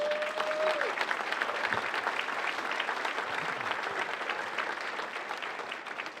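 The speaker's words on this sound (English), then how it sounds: "they deserve a round of applause" A crowd at a gala applauds steadily for the Holiday Inn by the Bay staff, a dense wash of clapping that slowly fades toward the end.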